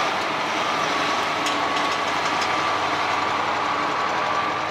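A KamAZ 5320 truck's diesel engine drones steadily and loudly from inside the cab as it crosses a puddle, a constant rumble with faint splashing hiss and no speech.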